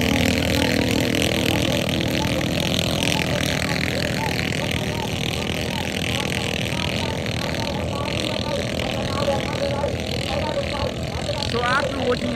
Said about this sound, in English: let's get back to the tractor race.